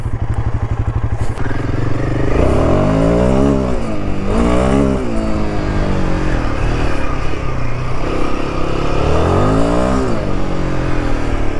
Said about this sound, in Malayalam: ചെറിയൊരു ടാപ്പറ്റ് നോയ്സ് ഉണ്ട്, നമുക്കിപ്പോൾ അത് ഇഗ്നോർ ചെയ്യാം.